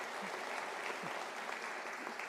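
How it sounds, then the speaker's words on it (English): Audience applause at a University of South Africa autumn graduation ceremony, a steady sustained wash of many hands clapping, moderately distant, with faint voices underneath. "Can we give a round of applause to our sign language interpreter, Nombuso Ntheko?"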